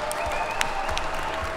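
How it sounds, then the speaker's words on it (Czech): Applause from an audience at an award ceremony for a car rally club's 60th anniversary, steady dense clapping filling the short stretch with no voices over it. "prosím potlesk"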